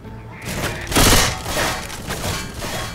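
Gunfire in the zombie shooter Left 4 Dead 2, a dense burst of rapid shots with a loud peak, heavy and close, over constant game noise with no talk.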